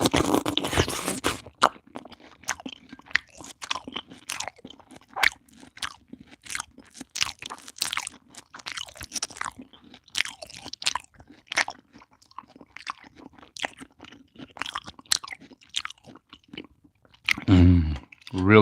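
A ripe, juicy mango is bitten and chewed close to the mic, with a run of wet crunches and smacking chews, ending in louder rustling handling noise.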